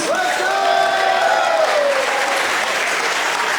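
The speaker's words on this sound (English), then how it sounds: "Give yourselves a big round of applause." A crowd at an independent wrestling anniversary show bursts into loud, sustained applause with some cheering and whistles, the clapping close and dense from start to finish.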